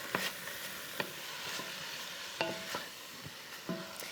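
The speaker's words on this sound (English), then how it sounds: "when it's really well coated and you can hear the sizzle" Cabbage soup base sizzles steadily in a pot, with occasional clinks and scrapes of a spoon stirring through the hiss.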